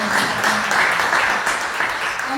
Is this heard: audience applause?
yes